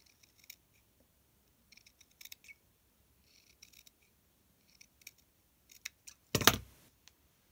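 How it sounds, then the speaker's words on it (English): Scissors snip leaf shapes out of wool jacket fabric in short, irregular bursts of crisp cuts, quiet and close, ending in one louder rustling clip with no talking. "let's just cut out some leaf shapes and put around there"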